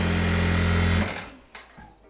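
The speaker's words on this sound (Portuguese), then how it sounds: "eu vou pespontar ao longo de todo o centro-frente" A sewing machine topstitches along the center front of a vintage-style garment, running in a steady loud whir for about a second before stopping, followed by a few faint handling clicks.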